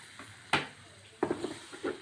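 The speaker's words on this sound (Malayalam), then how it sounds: "പച്ചമണം മാറുന്ന വരെ ഒന്ന് നല്ലപോലെ വഴറ്റിയെടുക്കും" Masala sautéed in a pan for a Kerala-style fish dish, with soft sizzling broken by a sharp spoon scrape and a few quieter stirring strokes against the pan.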